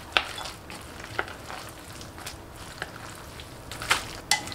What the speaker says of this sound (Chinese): 然后少量多次的加入面粉，搅拌均匀